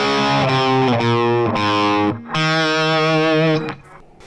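Distorted electric guitar plays a rhythm part, loud and alone: chugging repeated chords with a brief gap near the middle and a short ringing tail at the end.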